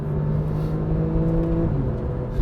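Porsche 991 Carrera 4S with a naturally aspirated engine winding up under load in a low gear, a loud continuous engine drone heard from inside the car, pitch holding then shifting slightly.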